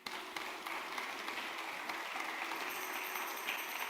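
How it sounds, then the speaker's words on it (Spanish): A church congregation applauds during a Spanish-language sermon, with steady, fairly faint clapping spread across the room throughout, sounding somewhat distant. "Aplauda a Jesús."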